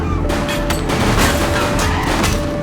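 Dense burst of gunfire from a police shootout in the video game The Precinct, loud and continuous with overlapping rapid shots filling the whole moment, no voices over it.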